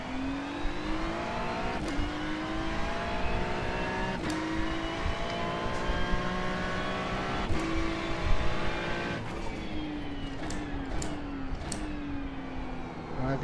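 Lamborghini race car in a racing video game: a revving engine climbs repeatedly through the gears, each upshift marked by a sharp break, loud and continuous with no talk.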